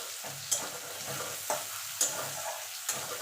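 Tilapia pieces fry in oil for telapia macher teljhal, a dense continuous sizzle broken by four spaced, sharp utensil taps against the pan.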